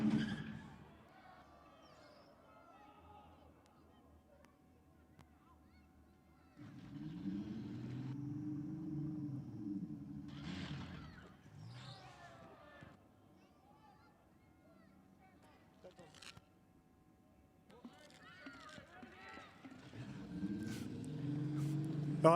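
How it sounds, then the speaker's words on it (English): Race car being restarted with a low rumbling engine that surges and fades in several uneven bursts, heard at a distance under a commentator's voice. "let's see if you can get this refired and get some tyres off"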